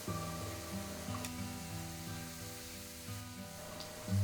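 Vegetables sizzle in a hot pan while being sautéed for chicken spring rolls, a soft, steady frying crackle sitting beneath faint background music, with no talking.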